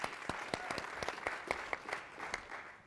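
An audience in a conference ballroom applauds, with scattered, distinct claps rising to a moderate patter and tapering off over a few seconds, close and fairly clear with no talk over it.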